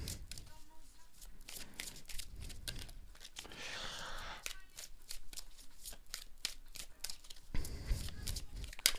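Tarot and oracle cards shuffled by hand in repeated quick riffles and slides, close and crisp with papery snaps and a brief crinkle midway, no speech heard.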